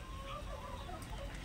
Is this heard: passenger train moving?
no